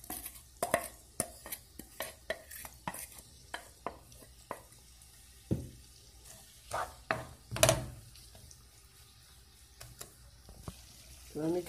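Onion sautés in a pan with a soft, low sizzle, broken by irregular clicks and scrapes of a utensil stirring against the pan.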